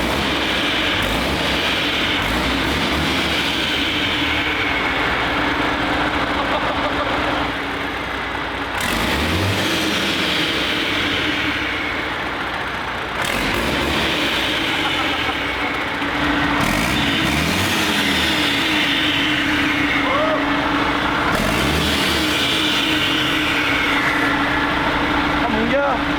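A large 11-litre six-cylinder diesel engine cranks and runs with a loud, steady roar, surging at intervals, while people talk over it.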